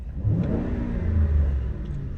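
A 2012 Ford Expedition EL with a 5.4L engine idles and revs up briefly, a smooth close rumble that rises and settles over about two seconds.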